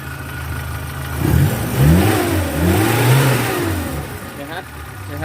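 A 1987 Suzuki Jimny engine is revved up close, rising and falling through a few throttle blips over its idle, with a voice speaking across it.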